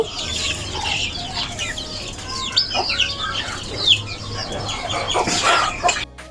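Pure local desi chickens kept for sale on a small farm cluck and squawk continuously at close range, with bursts of sharper calls throughout and no one talking.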